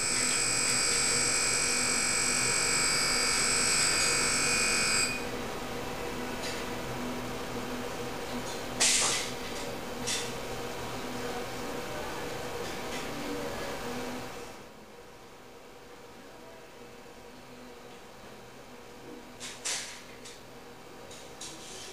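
A balancing machine spins up a lightened Subaru flywheel: a high tonal motor whine for the first few seconds, then a steady mechanical hum broken by a few sharp clicks and knocks, fading lower toward the end.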